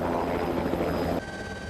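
A helicopter flies during water rescue training, its rotor roar a loud, continuous broadband wash that drops slightly in level near the end.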